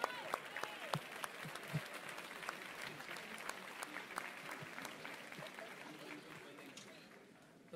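Seminar audience in Tokyo claps steadily for several seconds, a dense, moderately loud patter of many hands filling the room with a few sharper individual claps standing out.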